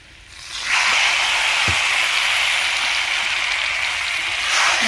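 Marinated chicken hits a pan of spice paste and starts frying, setting off a loud, steady hiss that swells within the first second and holds close and continuous with no talk over it.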